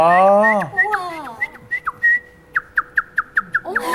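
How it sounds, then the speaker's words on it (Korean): A man whistles a short tune: sliding, warbling pitched notes at first, then a run of quick, evenly spaced chirpy pips, loud and close, with a brief voice at the end. "그러면 오늘 이 자리에서 조금만 그 당시에 들려주셨던 휘파람 저희도"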